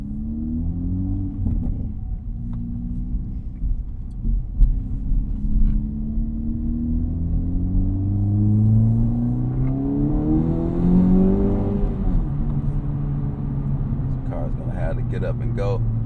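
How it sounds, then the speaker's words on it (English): An Acura Integra Type S with a manual gearbox and an aftermarket exhaust accelerates hard, its engine rising through the revs and shifting gears as a tone climbs steadily, while a driver talks over the drone. "You're going to hear a lot more pops and bangs in here because this is an aftermarket exhaust."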